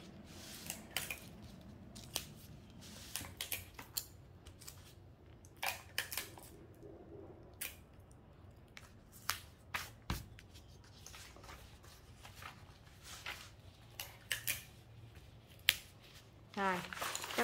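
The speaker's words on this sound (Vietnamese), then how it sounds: "các bạn xếp nó lại, mình cắt đối xứng qua ha" Scissors snip through folded fabric being cut symmetrically for a ruffle-hem pencil skirt, with repeated short crisp cuts and rustling handling noises in an irregular rhythm, close and fairly quiet, with a person talking at times.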